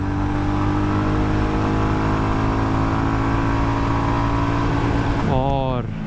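A Honda CB350 motorcycle, a 2024 model, accelerates hard from standstill toward 100 km/h, its steady loud engine drone holding throughout before the pitch sweeps up sharply through a gear change near the end.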